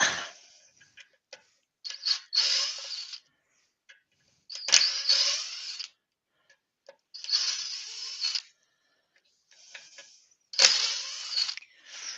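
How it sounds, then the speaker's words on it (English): Screws are driven out of wood with a power driver in repeated whirring bursts of about a second each, separated by quiet gaps. Light clicks and handling knocks come between the bursts, close by, with no talk. "And I'll just get rid of the screws out of that."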